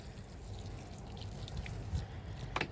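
Water poured lightly onto fresh soil covering sown coriander seeds on a rooftop, a soft continuous splashing and trickling close by, with a few brighter spatters toward the end.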